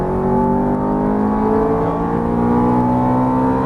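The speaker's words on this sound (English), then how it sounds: "Now accelerate out, full throttle. Just wind it up." Ferrari F430 engine at full throttle accelerating out of a corner on track, a loud, continuous rising engine roar heard up close with no talk.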